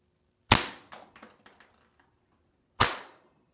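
An airsoft KWA M226 pistol fitted with a CAA Roni carbine kit fires two sharp, loud pops about two seconds apart, the first followed by a few faint mechanical clicks.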